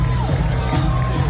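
A comedy club crowd cheers and whoops as a comedian walks on stage, a dense roar of voices with shouts bursting over a steady low rumble.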